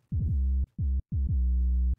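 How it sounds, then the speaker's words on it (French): Classic 808 bass played clean with no distortion: three deep booming notes in a short, clear sequence, each holding a long sustained tone, the last one ringing longest, with no other sounds. "Donc c'est un son du 808 totalement classique."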